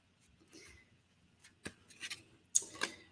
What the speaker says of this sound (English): I'm just giving it a good shuffle because it's a brand new deck.